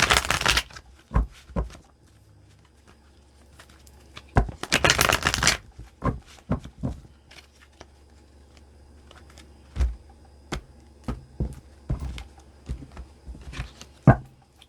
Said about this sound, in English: Just going to do 2 shuffles